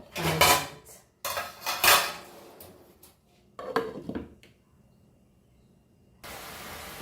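A pot of Goan jackfruit bhaji gets its lid set on with a few clattering metal knocks and scrapes, close up. A soft hiss from the stove continues after.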